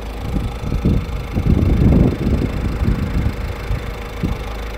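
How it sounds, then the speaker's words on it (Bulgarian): A 2016 Peugeot 2008 1.6 BlueHDI diesel engine idling with a low, uneven rumble and some wind buffeting the microphone, steady throughout with no voices. "Ето ви го покажа и мотора, как работи, как мърка."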